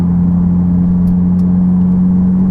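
A Ferrari 488 Pista with an Inconel exhaust, its engine droning in a loud steady low rumble under acceleration, heard close and continuous with no talking.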